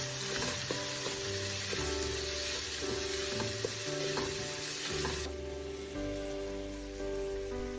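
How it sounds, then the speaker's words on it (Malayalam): Chopped garlic sizzles steadily in about four tablespoons of hot olive oil, a close, continuous frying hiss with occasional faint stirring taps and no voices. "അതിലോട്ട് വെളുത്തുള്ളി ചെറുതാക്കി അരിഞ്ഞത് ചേർത്തൊന്ന് വഴറ്റി കൊടുക്കാം."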